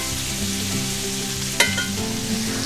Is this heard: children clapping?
no